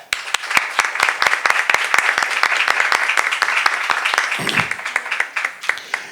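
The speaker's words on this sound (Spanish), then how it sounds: "les pido también un fuerte aplauso" Strong applause from an audience welcoming a speaker at a lecture on freedom of expression: sharp, distinct claps at first, then swelling into a steady, dense round of clapping that tapers slightly near the end.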